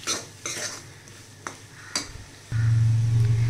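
A ground peas mixture with coriander powder being sautéed in a pan: spoon scrapes and stirring clatter over a soft sizzle, then a louder steady hiss and hum in the final second.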